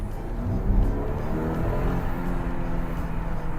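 300-horsepower BMW car accelerating on the road, a steady low engine rumble and rising drone heard from inside the cabin, continuous and moderately loud without speech.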